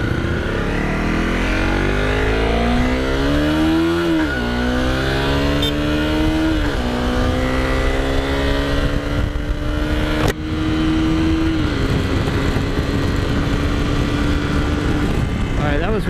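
A 2017 Honda CRF250L Rally dual-sport motorcycle accelerates hard and shifts up several times, its close, loud engine whine rising in repeated sweeps that each drop back at a gear change, with some wind rush throughout.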